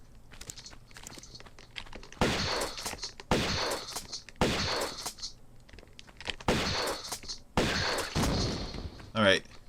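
Five loud shotgun blasts from Tomb Raider ring out at roughly even intervals, each a sharp boom with a decaying tail. A brief whooshing sound closes the sequence.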